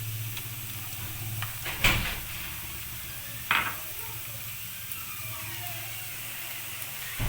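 Okra frying with ginger garlic paste for a spicy bhindi masala keeps up a low, steady sizzle over a faint hum, broken by two sharp utensil clatters.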